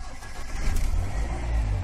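A Mahindra Scorpio diesel engine, repaired after a faulty diesel pump and wiring harness, cranks and catches, its low rumble swelling and settling into a close, rough idle.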